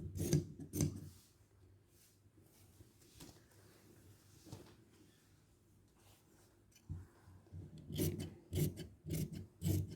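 Scissors cut through the back panel of a slim-fit trouser fabric at a tailoring boutique, with close, crisp snipping in bursts and a quiet lull of light rubbing between them.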